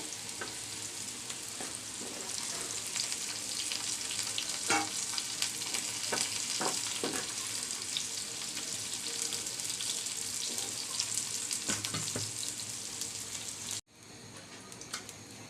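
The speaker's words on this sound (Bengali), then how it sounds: "এবার বেগুনগুলো ভেজে নিব" Eggplant slices fry in hot oil in a pan, a steady loud sizzle with occasional clicks and stirring scrapes throughout, briefly dropping off near the end.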